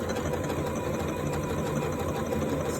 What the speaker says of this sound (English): now what I can do is just stitch it out.